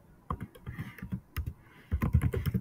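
A name being typed on a computer keyboard: quiet, irregular runs of key clicks in quick succession, with a short pause midway and a denser flurry of keystrokes at the end.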